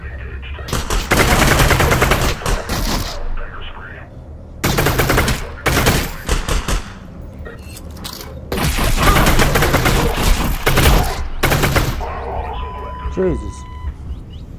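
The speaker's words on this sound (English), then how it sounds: "Please do not shoot me through there." Gunfire in the virtual reality game Half-Life: Alyx, loud bursts of rapid shots in several clusters over a speaking voice.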